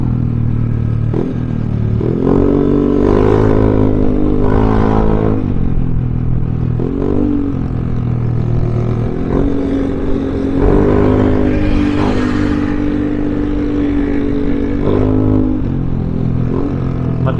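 Heavy night-time traffic with large trucks and shuttles on a busy road, a loud continuous rumble of engines rising and falling as vehicles pass close by, with occasional revving and clatter.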